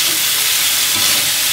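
Vegetarian filling for pan-made rice rolls stir-fried in a pan: a steady, dense sizzling hiss that holds evenly throughout, close and fairly loud with no voices.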